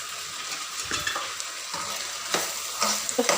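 Ghee going into food frying in a pan, with a close, steady sizzle broken by scraping stirring strokes and soft clinks.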